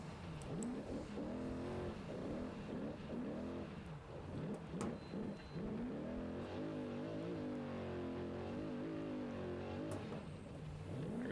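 A Trophy Truck engine at the SCORE Baja 500 qualifier roars steadily throughout, revving up and down through gear changes with a loud, continuous growl close by.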